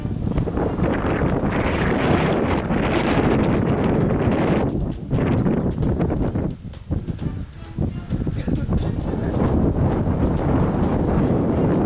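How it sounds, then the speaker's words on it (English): Strong gusts roar across the microphone on a hiking trail during a tropical storm, a loud buffeting rush with leaves rustling. It dips briefly a couple of times, then surges back, with no voices. "You can hear the wind."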